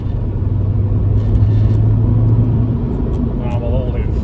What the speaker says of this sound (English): put it into third, keep the turbo spooling